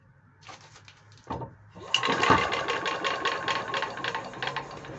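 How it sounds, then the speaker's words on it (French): A Bernard W19A engine with newly replaced piston rings turns over, building into a steady, fast mechanical chatter with light rubbing and clicking, close up after a quieter start. "Les segments sont neufs, hein, c'est normal qu'il y ait un petit bruit de frottement."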